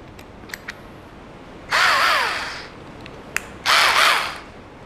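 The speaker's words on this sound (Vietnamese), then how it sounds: "Bây giờ mình sẽ chuyển sang mũi khoan 8 ly coi nó khoan sao." An Ingco cordless concrete drill fitted with an 8 mm bit bores in two loud, close bursts of about a second each, with quiet pauses and small clicks between them.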